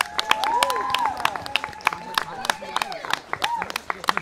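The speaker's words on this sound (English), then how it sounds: "let's give him one more big round of applause." Scattered clapping and cheers at a graduation ceremony, uneven and fairly light, mixed with voices and whoops from a small crowd.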